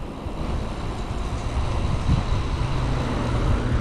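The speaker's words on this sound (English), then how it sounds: "It's starting to get windy and starting to actually get cold." Steady wind rushing and buffeting outdoors during an e-bike ride, a constant low roar with a faint hum of distant traffic underneath.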